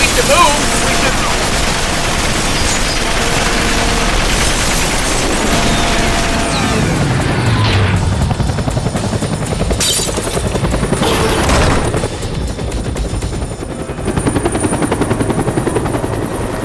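A helicopter's steady rotor thrum dominates while bursts of automatic gunfire and booms break through, loud and close, with voices briefly underneath, in the video game Yakuza 3.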